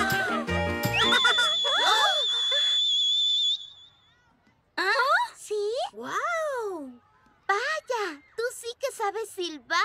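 Max the cartoon rabbit whistles loudly in long sustained tones with wavering pitch, after a burst of cartoon voices and exclamations, followed by more excited voices.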